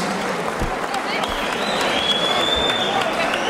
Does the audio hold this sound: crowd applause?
yes